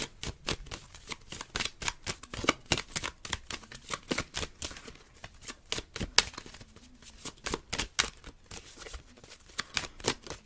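A tarot deck is shuffled close up, making rapid, dense riffling and flicking card sounds in quick bursts with brief pauses, fairly soft and with no talking.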